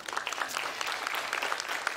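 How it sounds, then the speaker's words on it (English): A church congregation applauds during a Sunday service, with dense, steady clapping from many hands filling the room. "That's worth a round of applause."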